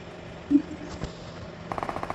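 A quick burst of rapid gunfire in PUBG Mobile rattles faintly in the distance after a couple of isolated bangs, over a low background hum.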